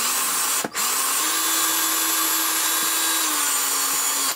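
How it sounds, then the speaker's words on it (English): A cordless drill whirs steadily at close range, briefly stopping and restarting early on, then running continuously as it bores through material. "I'm just going to drill those out"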